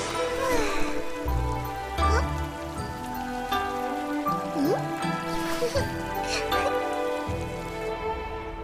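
Rain falling steadily with wind in an anime scene, a continuous patter and hiss under soft background music.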